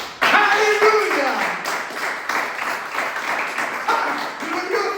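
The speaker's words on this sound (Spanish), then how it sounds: "¿Le pueden dar otro aplauso a Jesús?" Congregation applauding during a Spanish-language church service, sustained clapping from many people mixed with shouts and raised voices over a resonant room.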